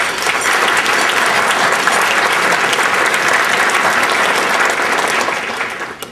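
Sustained applause from an audience at a recognition event, a dense, steady roar of many hands clapping at full volume for about six seconds before beginning to taper off at the end.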